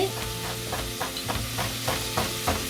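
Hot oil heating in a frying pan before marinated chicken goes in gives a low steady sizzle, overlaid with regular rhythmic scraping strokes close by, and no speech.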